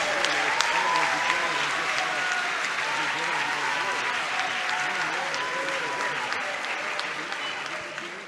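A large audience applauds at a gathering in Assisi, Italy, dense sustained clapping filling the space with a faint voice or murmur running beneath it.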